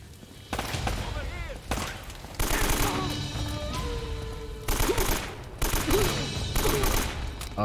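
Bursts of automatic AK rifle fire in the video game Uncharted: Drake's Fortune, several rapid volleys separated by short gaps, loud and close, with someone talking between and over some of the shooting.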